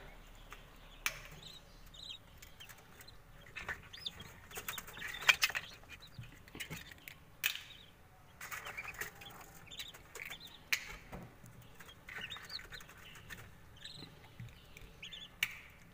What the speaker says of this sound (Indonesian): Ayam yang baru menetas seperti ini kita biarkan dulu hingga bulu-bulunya sudah kering